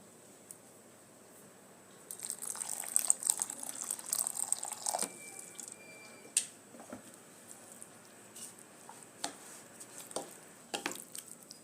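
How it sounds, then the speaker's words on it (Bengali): Water poured into a bowl of semolina and yogurt mixture, a soft, faint trickle and splashing with light stirring noises, close and quiet, no talk. "এবার এর মধ্যে আমি জল দিয়ে দেব"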